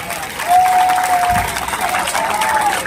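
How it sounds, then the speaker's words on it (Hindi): Loud, sustained applause from a crowd at a political rally in Khatauli, Muzaffarnagar, steady clapping filling the space for a few seconds with a brief tone whistling over it. "मेरी तरफ से आप एक बार इनके लिए तालियां बजा दें।"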